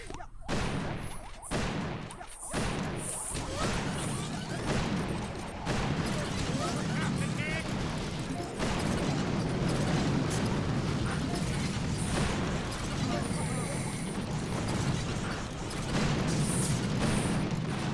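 Gunboat barrage in the Boom Beach mobile game: a few separate thumps at first, then a dense continuous roar of overlapping explosions and rumbling impacts that carries on loud to the end.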